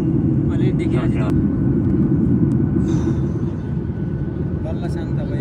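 Steady low engine rumble fills an airliner cabin in level flight, constant and close, with people talking over it at moments.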